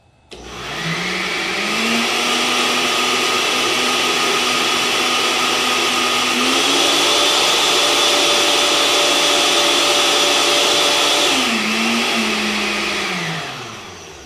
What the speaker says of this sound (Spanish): Todo esto lo batimos con un poquito, con una cucharadita de vainilla. Vamos sacando estas cosas acá y batimos.